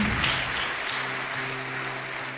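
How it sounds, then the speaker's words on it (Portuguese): Church congregation applauding after a Bible reading, a continuous broad wash of clapping with sustained low musical tones underneath, fairly steady and moderately loud. "Dê um aplauso à palavra do Senhor"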